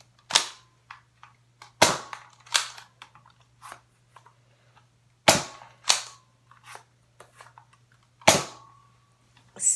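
Nerf gun firing Battle Camo Edition darts at a firing range: a series of sharp, loud pops, some spaced a few seconds apart, with lighter clicks and snaps between them and no talking.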